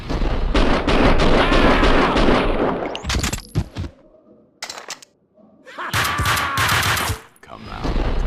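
Gunfire in the Max Payne 2 video game: loud bursts of rapid shots and fusillades, heavy at the start and again near the end, with brief quieter gaps between volleys.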